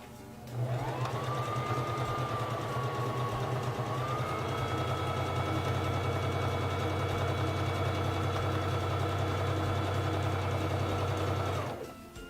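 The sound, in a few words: SINGER Fashion Mate 3333 sewing machine stitching fabric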